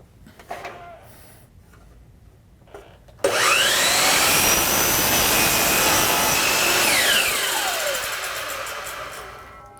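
A miter saw cuts wood moulding for an inside miter: a quiet spell of handling and clicks, then the motor spins up to a loud, steady whine as the blade bites through the trim and finally winds down.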